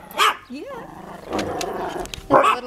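A dog barks twice with sharp, loud yips, separated by a stretch of quieter rustling and a brief human voice in between.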